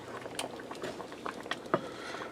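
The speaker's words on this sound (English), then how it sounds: "I'm going to stir that in there and let this simmer just for a minute." A pot of ham and dumpling stew, thickened with cornstarch, simmers gently with soft irregular bubbling and popping, several louder bursts breaking through a low, close liquid burble.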